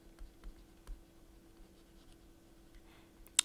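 Faint, soft scratches of writing during a mathematics lecture on finite limits of rational functions, as examples go up on the board; the light strokes sit in a quiet room with no one speaking.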